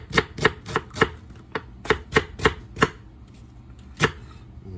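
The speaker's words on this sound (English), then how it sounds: "I'm just going to take these whole onions, and I'm going to put them in here like this, and I'm just going to kind of break them up real good" A knife chops whole onions on a board in quick bursts of sharp, close thuds, then pauses and strikes a few more times, with no talking.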